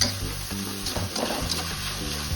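Pancit canton noodles being stirred with soy sauce and oyster sauce in a pan, a steady sizzle with scraping strokes of the utensil, close and continuous, no talking.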